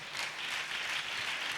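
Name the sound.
applause, congregation clapping at a church service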